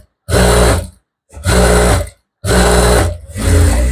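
A sewing machine stitches a blouse in four loud, close bursts of steady whirring, each lasting about half a second to a second, with short silent pauses in between.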